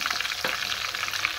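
Onions frying in a pan for pakora kadhi, giving a steady bright sizzle with soft crackling throughout and no talking.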